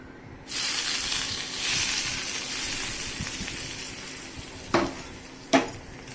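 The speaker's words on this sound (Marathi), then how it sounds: "आणि हे जे तेल आहे ते तेल आता या पिठामध्ये टाकून घेते. मोहरी, जिरं आणि हिंग." Hot oil tempered with mustard seeds, cumin and hing is poured into rice and mixed-dal appe batter, setting off a steady loud sizzling hiss that gradually settles, followed by two sharp knocks of a utensil.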